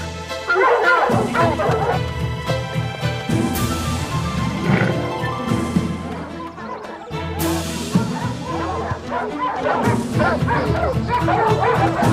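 Several hunting dogs bark, yip and whimper excitedly in overlapping bursts during a hunt, loud and close, continuing throughout.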